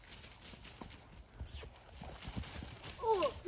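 A horse's hooves clip-clop in a quick irregular series of soft thuds at a riding arena, faint and fairly close, with a brief higher animal call near the end.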